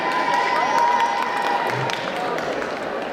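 A cosplay contest crowd at a French convention applauds and cheers an Ariel (Little Mermaid) costume: a steady, loud wash of clapping and shouting with voices and a tonal line running through it.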